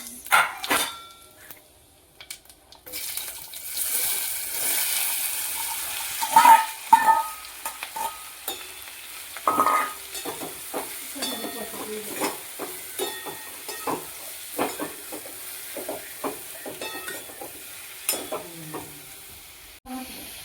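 Cumin seeds and asafoetida frying in hot oil for Lonavala-style bhajiya, a steady crackling sizzle with scattered clicks of stirring and utensil taps, plus a few brief sharp bursts; no talking.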